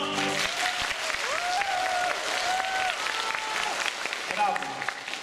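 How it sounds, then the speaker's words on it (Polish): An audience claps steadily at a Valentine's and carnival-season concert, the crackle of many hands sustained for several seconds, with a voice and tonal sounds carrying over the applause. "Publika gromki aplauza."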